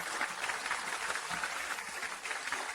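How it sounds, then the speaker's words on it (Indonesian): Wedding guests give the newlyweds a warm round of applause, a soft, even patter of many hands heard at a distance and sustained throughout. "Sekarang, mari kita gunakan tepuk tangan hangat."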